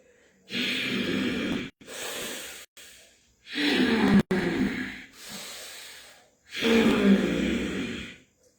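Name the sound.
noisy audible pranayama breathing demonstration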